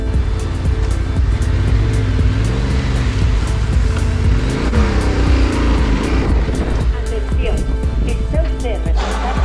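A Yamaha Ténéré 700 off-road motorcycle slides its rear out through a dirt turn, a loud continuous engine roar rising and falling alongside wind rush across the ride, with talk throughout.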